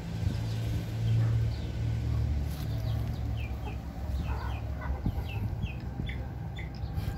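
Chickens cluck and chatter in short calls near their coop over a steady low engine-like hum, several birds close by.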